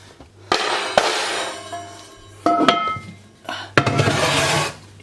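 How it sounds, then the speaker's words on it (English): A metal tray slides out of an Esse Bakeheart oven with loud scraping and clattering in three rasping bursts, one near and distinct after another, with no voices over them. "Slide that out, there's the tray."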